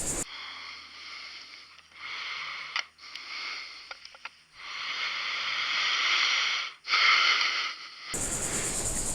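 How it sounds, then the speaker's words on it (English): Heavy, close breathing from a deer hunter, caught by a microphone on a hat-mounted camera. Long, labored inhales and exhales rasp loudly, with brief pauses and a rustle near the end. "It picks up my breathing. It sounds like I'm about to die."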